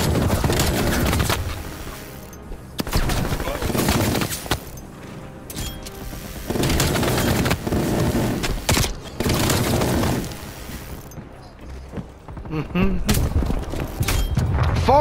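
Shotgun blasts in Call of Duty: Warzone, loud booming shots in irregular clusters between quieter gaps, with game sounds and voices mixed in.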